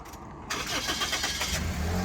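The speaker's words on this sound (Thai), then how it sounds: "สตาร์ททีเดียวติดครับผมเครื่องนิ่มเงียบนะครับผม" A 2008 Toyota Altis 1.6G engine cranks briefly, catches, and settles into a smooth, low, steady idle.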